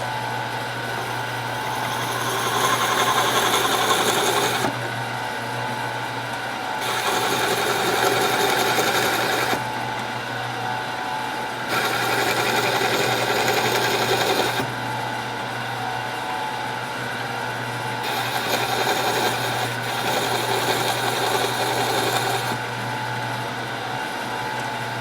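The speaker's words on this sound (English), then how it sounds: "now we are going to go ahead and drill our other blank." A drill boring through a pen blank on a lathe, a steady mechanical whir with a constant hum, rising in bursts every few seconds as the bit is fed in and backed out, close and continuous with no talk.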